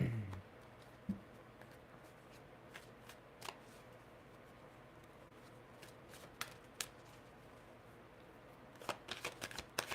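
Playing cards riffled and shuffled at a table during a card reading, with repeated short crisp bursts, a denser run near the end and quiet gaps between.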